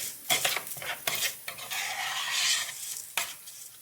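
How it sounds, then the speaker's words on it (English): A spoon stirs microwaved rice coated with butter in a dish, producing scraping and clinking strokes in irregular bursts followed by a soft continuous rustle, close and fairly quiet. "we're going to give it a stir"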